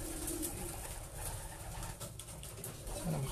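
A racing pigeon coos softly and close by, low murmuring calls rising above a steady hiss of background noise, with no one talking.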